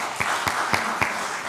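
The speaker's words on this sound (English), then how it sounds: "You can clap to that if you want." A few scattered hand claps, about four distinct claps spaced evenly, light and brief rather than a full round of applause.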